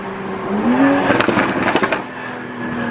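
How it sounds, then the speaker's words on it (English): A 2021 Toyota Supra fitted with a downpipe exhaust downshifts, its engine note sweeping up and then breaking into a quick burst of pops and crackles, loud and close. "Successful downpipe install. We're gonna bring it back. Downshift."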